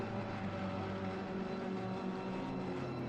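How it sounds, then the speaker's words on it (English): Ferrari racing car engines at Oulton Park in a PS5 racing game, a faint, steady droning engine hum with sustained tonal whine, distant and unbroken for the whole stretch. "Love the sound of the Ferrari."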